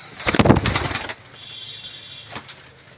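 A burst of rapid wing flaps from a mother pigeon, loud and close, followed by a quieter stretch with a faint high tone and a brief second flutter.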